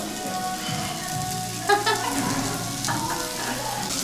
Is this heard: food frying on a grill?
yes